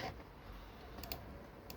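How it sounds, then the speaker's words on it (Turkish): A few quick, soft key clicks tap out a password in small bursts on a keyboard, close by and otherwise quiet. "Şimdi bu hani şifresini klavyeden yazıyorum abi."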